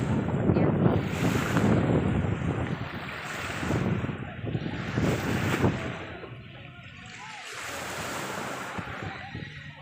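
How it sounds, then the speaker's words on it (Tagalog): Strong seaside wind buffets the microphone at a beach in the morning, roaring in gusts that swell and fade every few seconds, with the wash of waves beneath; no one speaks. "Lakas ng hangin dito."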